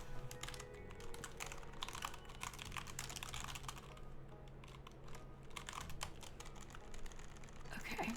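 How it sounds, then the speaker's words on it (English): Dense, continuous typing on a computer keyboard, with rapid close clicks and clacks running throughout. "I'm typing mine."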